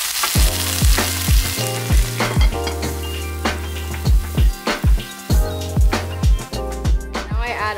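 Tofu and vegetables sizzle in a pan, a steady loud hiss broken by regular knocks and scrapes of stirring, close and continuous with no voices.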